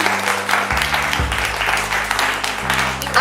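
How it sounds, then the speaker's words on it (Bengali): An audience claps and applauds at an in-store family event, a steady wash of clapping with sustained background music underneath. "একটু হাততালি কিন্তু আপনাদের কারোর পাচ্ছি না, একটু হাততালি"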